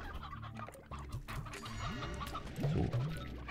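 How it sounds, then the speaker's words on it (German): Chickens clucking in the video game Slime Rancher, several overlapping clucks and squawks with a louder burst near the end over a steady game background hum. "hier sind immer wieder Küken"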